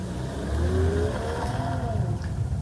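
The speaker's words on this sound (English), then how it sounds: "The 4 exhaust pipes deliver a purposeful bark which settles down into a potent hum." A Mercedes-AMG E53 4MATIC+ Estate with a mild-hybrid inline six runs through four exhaust pipes, giving a revving engine note that rises and falls before it settles into a steady hum.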